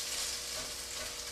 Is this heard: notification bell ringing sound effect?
no